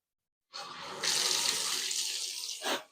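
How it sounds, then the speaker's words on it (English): Water poured from a kid's cup to rinse soap scum off a bathtub, a close splashing pour that starts abruptly, runs steadily for about two seconds, then ends with a brief final gush. "now that it seems that I got all the soap scum, I'm gonna rinse"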